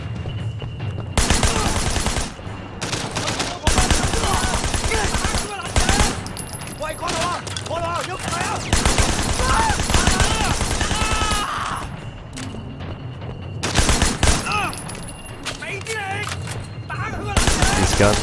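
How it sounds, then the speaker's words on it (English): Bursts of rapid gunfire from guns firing subsonic ammunition in the Sleeping Dogs video game, loud volleys broken by short pauses and mixed with voices and game sounds. "These guns are using subsonic ammo"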